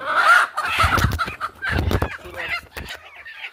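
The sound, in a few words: hen clucking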